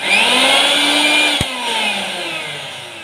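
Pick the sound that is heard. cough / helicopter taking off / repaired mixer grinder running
repaired mixer grinder running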